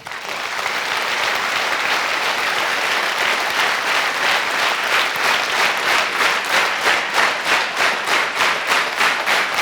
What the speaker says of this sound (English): And now you can start clapping.